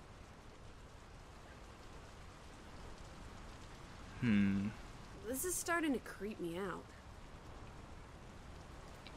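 Steady rain in the video game Draugen, a soft continuous hiss of falling drops that stays even throughout, with someone speaking briefly over it near the middle.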